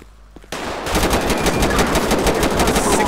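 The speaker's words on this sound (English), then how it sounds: "Shots fired at the police and by the police." Sustained rapid automatic gunfire erupts in GTA V with the LSPDFR police mod during a shootout with police, starting abruptly after a quiet moment and continuing loud and dense to the end.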